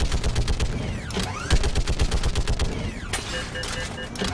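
Rapid turret gunfire in Mass Effect 3 on the Earth F.O.B. map: loud, continuous automatic bursts with metallic ringing and whirring mechanisms, filling the whole stretch without pause.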